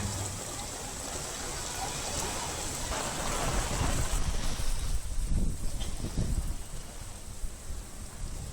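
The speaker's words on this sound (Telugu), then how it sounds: "ప్రాంతాల్లో భారీగా వర్షం కురుస్తోంది" Heavy rain pours steadily across Hyderabad neighbourhoods such as Tarnaka and the OU campus. The dense, hissing downpour builds slightly toward the middle, and low rumbles hint at thunder beneath it.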